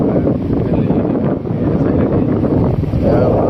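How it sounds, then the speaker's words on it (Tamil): Strong storm wind buffeting a microphone during heavy rain while stopped on a 150cc motorcycle journey, a steady loud roaring rush with gusty swells throughout. "உண்மையில சரியான மழை, சரியான புயல் காற்று"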